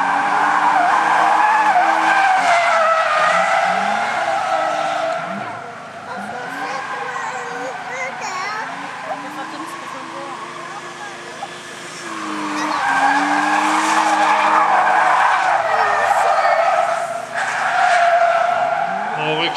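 A drift car slides and skids at a 2010 drift competition in Bivaröd, Sweden. Loud tire squeal rises and falls in long waves alongside the racing engine, with a commentator talking over it.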